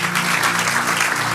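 Church congregation applauding during a worship service, a dense, loud wash of many hands clapping continuously with a low hum underneath and no speech.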